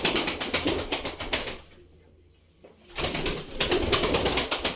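Pigeons, tumbler-type birds that spin in flight, flap their wings in rapid rhythmic bursts close by, with a quiet gap in the middle before the flapping resumes, soft cooing mixed in.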